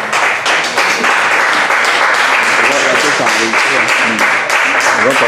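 A congregation at a church service applauds the Lord, producing loud, sustained clapping from many hands close by, mixed with cheering voices throughout.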